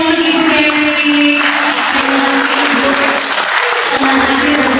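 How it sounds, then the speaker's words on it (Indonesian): An audience at a job fair talk show breaks into loud, sustained applause, many hands clapping together in a dense, even roar that fills the space for several seconds. "Oke, kita berikan tepuk tangan yang meriah untuk Ibu Dewi."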